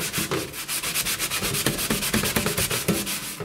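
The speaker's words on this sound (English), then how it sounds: "so we're going to try scrubbing that off" A Scrub Daddy Big Daddy scrubber scrubbing a rough surface, close and loud, with a steady rhythm of rapid back-and-forth gritty rubbing strokes and no pauses.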